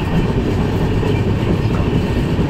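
The Garib Rath Express rolls along the tracks near Goalpara, a loud, steady rumble with continuous rattling wheel noise heard from on board, with no talk.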